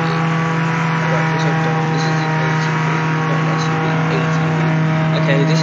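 ATV engine in the Roblox game Jailbreak, a steady loud motor drone that holds constant throughout, with faint talking mixed underneath.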